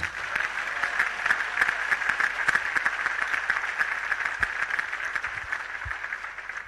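A church congregation applauds with sustained, dense clapping throughout, fairly loud and even, with no speech over it.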